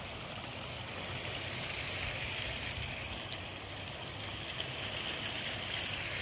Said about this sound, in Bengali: এখান থেকে জল বেরোচ্ছে।